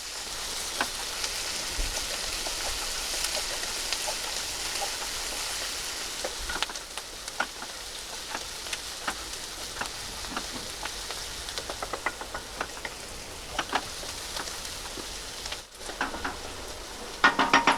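Chopped onion frying in a pan until brown for Maharashtrian dudhi bhaji, a steady close sizzle with scattered small pops and spatters throughout, no voices.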